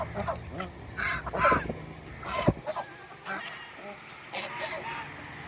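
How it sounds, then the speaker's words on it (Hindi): Young waterfowl chicks walking on a goat farm give several soft honking, quacking calls in short bursts, mixed with faint background voices and farmyard noise. "वो आगे देखें वो मुर्गाबी के बच्चे चल रहे हैं"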